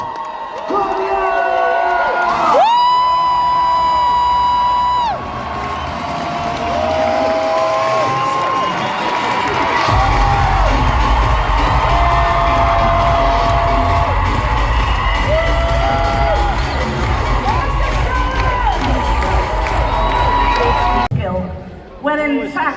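A convention audience cheers loudly, whooping and shouting in a sustained roar with a steady rumble underneath, while an amplified voice calls over the noise before it fades at the end.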